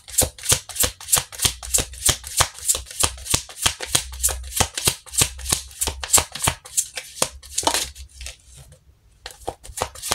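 Tarot cards shuffled by hand in a fast, steady riffle of crisp, papery flicks, close and loud, continuing for about ten seconds with a brief pause and softer handling near the end.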